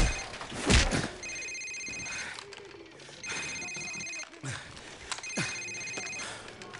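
A cell phone rings in the Call of Duty Modern Warfare video game, sounding three times with repeated electronic trill bursts separated by short pauses, alongside thuds and other ambient game noise.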